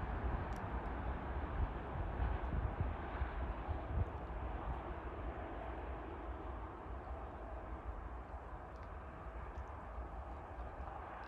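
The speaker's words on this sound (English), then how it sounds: "You can hear the trucks on the highway behind me." Distant trucks on a highway in the Montana countryside produce a steady, faint, low rumble of traffic noise that carries on without break.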